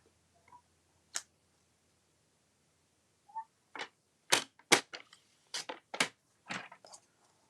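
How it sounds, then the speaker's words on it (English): Paper trimmer cutting card, a series of sharp, close clicking and slicing strokes, several in quick succession after a couple of isolated ones. "I'm going to grab my trimmer, and I'm just going to cut out one of these for now."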